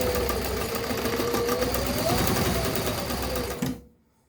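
An Austech SK-2BL20 long-arm walking-foot heavy-duty sewing machine stitches through six thick layers of material, running loud and steady for nearly four seconds before stopping abruptly.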